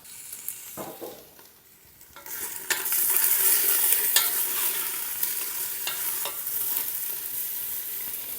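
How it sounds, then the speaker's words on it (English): Onions and meat browning in olive oil in a pan over high heat, starting with a few quiet scrapes, then swelling into a loud, steady sizzle with stirring strokes throughout, up close and with no speech. "We're browning the onions, we're browning the meat"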